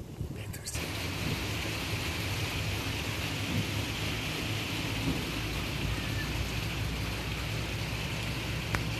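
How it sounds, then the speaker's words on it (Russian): Steady rain falls outdoors at a Moscow-region country estate, a dense loud hiss that begins after a brief quieter moment and continues without pause, with rumbling low tones underneath. "Дождик пошел."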